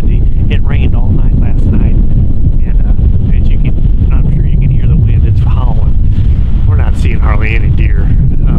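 Strong, gusty wind on a cold, extremely windy morning in Kansas during a hunt. It buffets the microphone as a constant loud roar, and someone talks over it throughout.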